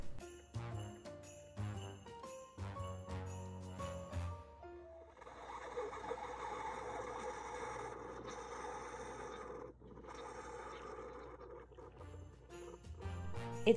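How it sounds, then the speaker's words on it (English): A coffee maker brewing sputters and gurgles softly: a few faint clinks at first, then a long, steady hissing, bubbling rush with uneven surges. "It's the sound of your coffee maker having a seizure."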